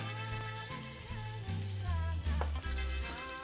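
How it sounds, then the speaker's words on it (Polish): Halved jacket potatoes frying in olive oil in a pan give a steady hiss and sizzle, heard under prominent background music with deep bass notes. "Pokroję na pół i lądują również na patelni."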